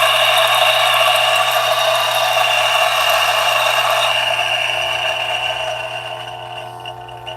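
A DF64 coffee grinder runs continuously through a 10-gram dose of beans, a loud steady mechanical whir with a gritty grinding texture that fades slightly toward the end.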